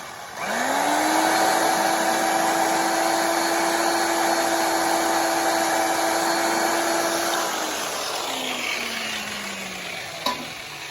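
An old Milwaukee polisher spins up and buffs vehicle paint with a steady, close motor whine and pad hiss that holds for several seconds, then winds down with a falling tone and a small knock at the end; no talking.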